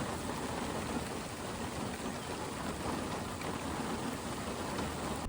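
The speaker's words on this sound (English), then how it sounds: "And we got some rain" Rain falls steadily across an open farm field, a constant, soft, even hiss with a faint low rumble beneath it and no voices.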